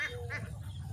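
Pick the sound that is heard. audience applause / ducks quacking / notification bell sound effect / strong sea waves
ducks quacking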